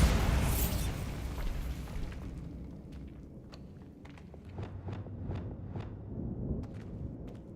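A big explosion spell goes off in a video game, a loud, close burst that rolls into a long fading rumble, followed by a series of quieter sharp pops and impacts.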